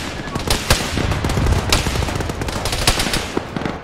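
Dense gunfire in the Arma 3 video game: rapid overlapping shots and bursts crackle continuously, loud and punchy, with a few sharper cracks standing out.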